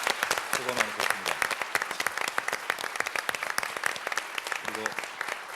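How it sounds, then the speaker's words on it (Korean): An audience in a hall applauds the president steadily, with a dense field of hand claps throughout and a voice speaking briefly over it a couple of times. "성실하게 답변해 주신 대통령님께 여러분 좀 뜨거운 박수 보내주셨으면 좋겠습니다"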